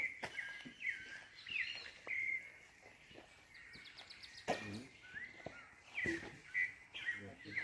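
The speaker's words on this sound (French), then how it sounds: "Voilà tous les bruits d'oiseaux." Birds chirp and sing in Mexico, with repeated short high tweets and trills scattered through the stretch, some sharper calls close by, over a busy outdoor background.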